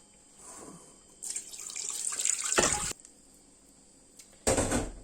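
Tap water pours into a pressure cooker holding a washed medium-sized chicken, in two close bursts: a longer splashing run that builds and cuts off, then a brief second gush after a quiet pause.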